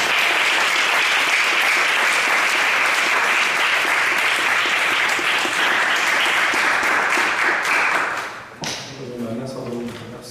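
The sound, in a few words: congregation applauding as the pastor comes forward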